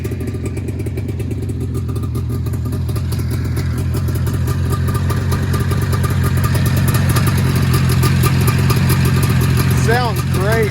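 An Arctic Cat Jag 3000 snowmobile, a rusty barn find, runs close by with a loud, steady, rattly two-stroke clatter throughout, and people talk over it.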